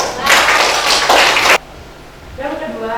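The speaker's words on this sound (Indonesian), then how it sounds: "Kasih tepuk tangan buat semua ini." A classroom of students claps hands in a short, loud burst lasting about a second and a half, then stops abruptly, and a voice starts speaking afterward.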